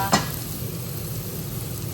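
Crabs and shrimps cooking in a pan, a soft steady sizzle with one sharp clink of a utensil against the pan at the start and faint stirring after; no voices.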